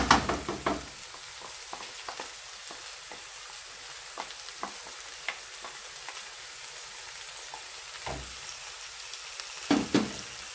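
Ground meat and tomato sauce for a bolognese lasagne frying in a pan, a steady close sizzle broken by scattered scrapes and clacks of a spoon stirring, with a few louder knocks near the end.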